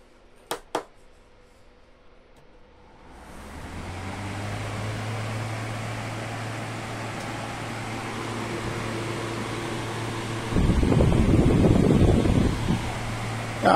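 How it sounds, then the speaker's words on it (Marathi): An air cooler starts after a couple of clicks: its fan rises into a steady whooshing hum, and a rushing water-flow noise swells in later, close and continuous. "मी आता तुम्हाला चालू करून दाखवतो हा कूलर."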